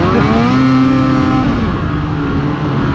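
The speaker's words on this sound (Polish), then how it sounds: "Ale dźwięk dwusuwa to jest coś pięknego" A two-stroke snowmobile engine revs loud and close on a snowmobile excursion in Zakopane, holding a steady buzzing drone that climbs in pitch, then eases and settles, with no talk over it.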